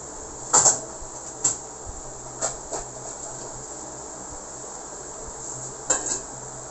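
Pot of coconut-milk milkfish paksiw set on the stove and covered with a lid, giving a few sharp clattering clanks of cookware, spaced apart over faint kitchen background with no talking.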